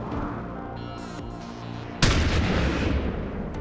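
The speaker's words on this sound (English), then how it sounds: "I'm gonna actually get right in here with the shotgun." A shotgun blast fired in the XCOM 2 video game, a single loud booming shot that erupts abruptly over steady game background sound and rings out with a noisy tail.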